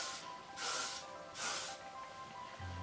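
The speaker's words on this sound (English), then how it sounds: "you can just kind of lightly spray this throughout your hair" L'Oreal Elnet hairspray misted lightly through short, textured hair: two brief, close hissing bursts about a second apart, with quiet handling between them.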